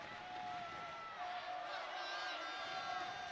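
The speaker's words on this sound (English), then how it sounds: "You can hear the crowd." Crowd at a Navy vs Army volleyball match, a sustained roar of cheering voices that fills the hall at steady loudness, with whistle-like tones and a commentator speaking over it.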